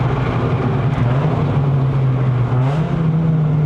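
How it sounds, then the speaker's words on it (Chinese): A manual Toyota Vios 1.5J NCP93 hatchback engine hums steadily from inside the cabin, its pitch dipping and rising slightly as it downshifts on a mountain road, with no talk. "声浪挺不错的，好听哎，尤其是降档那方面好听"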